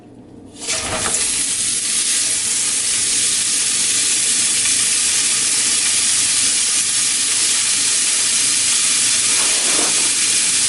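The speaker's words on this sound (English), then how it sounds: "We're going to cook the kielbasa in it until it's just lightly browned." Kielbasa hits a hot cast iron skillet over medium-high heat and bursts into a loud, steady sizzle that holds at full strength for the rest of the clip, with a brief shuffle of the sausage partway through.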